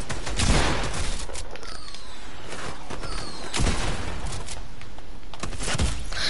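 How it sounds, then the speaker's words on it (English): Sniper rifle gunfire in Fortnite rings out in a Team Rumble match as sharp cracks within dense, continuous game battle noise. Loud and busy, with no talking. "He sniped me!"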